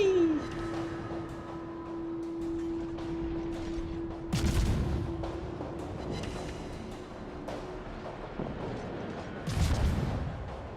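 Battleship New York unloading its main guns in a naval warfare video game, heavy booming salvos around four and ten seconds over a steady engine drone, with a voice talking faintly beneath.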